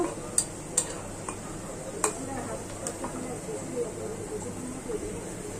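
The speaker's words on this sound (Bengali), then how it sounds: "আমার পেঁয়াজ বেরেস্তাটা করা হয়ে যাচ্ছে, লাল হয়ে যাচ্ছে।" Onions being fried to a browned beresta in a pan give a soft, steady sizzle, broken by a few sharp spatula clicks and scrapes against the metal.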